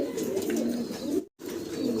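Pigeons at a pigeon farm coo softly in low, repeated murmurs, close and steady, with a brief dropout near the middle and no talking.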